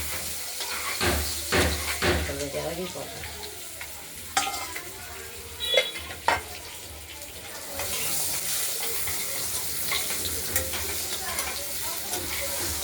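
Potatoes frying in a pan for a potato and tomato cabbage curry, with a continuous close sizzle and scraping spatula stirs, a few louder knocks partway, and the frying steadying toward the end.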